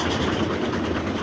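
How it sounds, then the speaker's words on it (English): A steam locomotive works hard uphill near Masbury summit on the line through Evercreech Junction, a steady loud roar of exhaust and running gear with no pauses or voices. "the overall effect of a steam locomotive climbing hard uphill, you had this sort of the exhaust being poured out the chimney, and the sound was tremendous"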